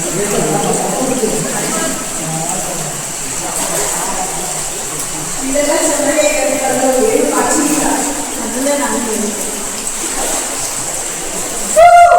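Water flowing through a long, dark cave at Vagamon, a steady close trickle and splash running throughout under the voices of people talking, with a brief sharp tone near the end.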